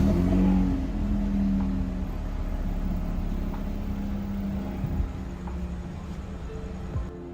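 A 2021 Toyota Harrier GR on Tein suspension runs with a steady idling engine hum, rising briefly into a short rev at the start and dipping into small throttle blips later, heard close up.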